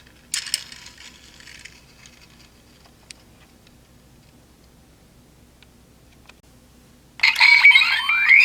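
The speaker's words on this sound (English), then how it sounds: "the rotors do have some free spinning action in here" Rotors on a Kamen Rider Revice Remix figure from the Ptera Genome and Jackal Genome set spin freely, giving a light mechanical whirring rattle. A short burst comes early, then a louder, sustained spin at the end.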